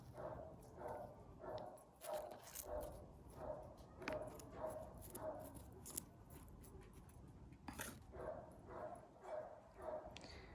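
Repeated rhythmic dog barks at a steady pace, somewhat distant and muffled, with background rustling and no speech.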